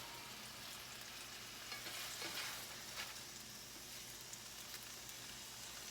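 Chicken burger patties fry in a pan with a continuous soft crackling sizzle, fairly quiet and steady throughout, with faint spatter pops and no voices.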